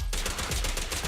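Rapid automatic gunfire in the video game Zenless Zone Zero, a quick burst of about ten close, evenly spaced shots lasting around a second, with no talking.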